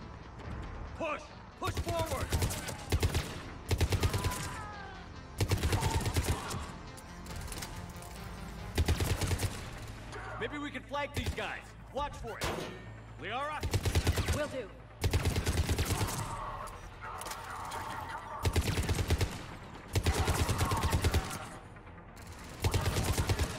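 Bursts of rapid gunfire from a weapon in Mass Effect 3, loud, close, sustained volleys repeating in several separate strings with short gaps and mechanical clicks between them.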